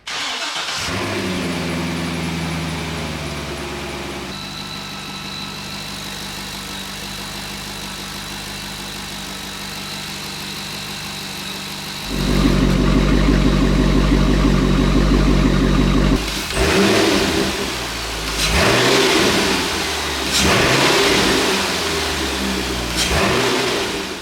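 A C6 Corvette V8 fitted with a Vararam cold air intake cranks and fires, settles into a steady idle, then gives several loud revs with induction roar, rising and falling close by, with no talking.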